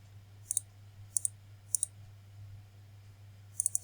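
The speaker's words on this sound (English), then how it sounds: "I'll click on send" Computer mouse clicks in a quiet room over a steady low electrical hum, coming in quick double clicks about every half second, then a faster burst of three or four clicks at the end.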